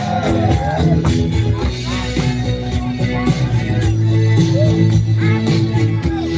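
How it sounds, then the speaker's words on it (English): A night concert crowd of screaming, whooping fans roars continuously, loud and dense, with voices and music mixed in throughout. "One more time, scream."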